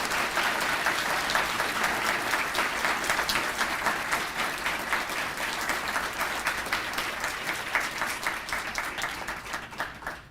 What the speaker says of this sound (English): A round of applause for these wonderful people.